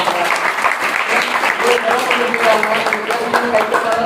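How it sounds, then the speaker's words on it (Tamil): A crowd at a Gokulashtami festival club event claps together, a dense, lively patter of applause with voices mixed in underneath. "கைத்தட்டுவாங்க"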